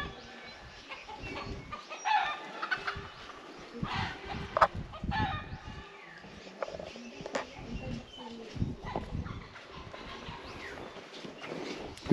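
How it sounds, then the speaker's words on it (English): Chickens cluck and scratch around in scattered bursts, fairly faint and close, with soft footsteps and occasional quiet voices. "There's a lot of chickens."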